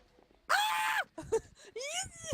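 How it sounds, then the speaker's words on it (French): A female zombie in a video game lets out two loud, drawn-out shrieking screams separated by a short gap, with faint background game noise between them. "Tu l'entends, c'est une femelle qui hurle."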